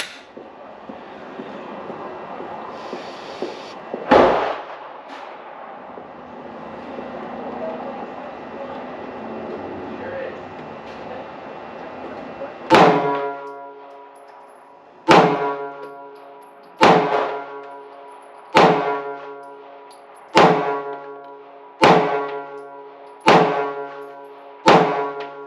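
A SIG pistol loaded with range ammo fires around nine loud, close shots in steady succession after one earlier isolated report, each crack ringing briefly over faint background noise.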